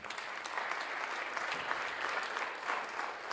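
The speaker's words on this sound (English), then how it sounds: "a round of applause for them, please." An audience applauds steadily at an MIT Enterprise Forum event in San Diego, a dense, even clapping from a full room with no voices over it.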